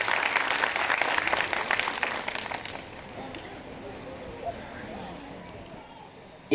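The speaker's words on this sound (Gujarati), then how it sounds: "ત્યારે એકવાર ફરીથી આ ભૂલકાઓને આપણે તાળીઓથી વધાવીએ" An audience at a school function claps for nursery-section girls just awarded medals; dense applause is strong at first, then thins and fades to scattered claps under background murmur.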